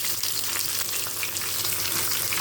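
Two medium onions, sliced long, fry in a pan with a loud, dense, continuous sizzle heard up close, a hissing crackle that stays even throughout the short stretch.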